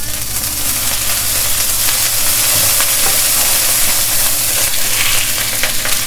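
Lamb meat sizzling in a little olive oil in a wok for a milk-lamb tajine, a loud, close, continuous frying hiss with faint crackles and stirring throughout.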